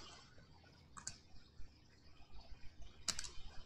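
A few faint, sparse keyboard clicks from a computer keyboard used for PC gaming with a mouse, coming in two brief bursts against quiet room noise.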